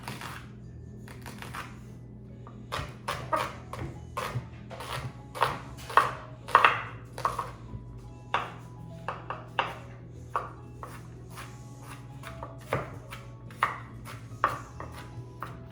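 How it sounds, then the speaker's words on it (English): Knife finely chopping a whole large shallot on a cutting board, crisp irregular taps in quick bursts with short pauses, close and fairly quiet over a steady low hum. "you just wanna chop up your shallot very small, very fine"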